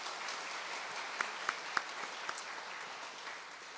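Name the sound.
congregation applauding in church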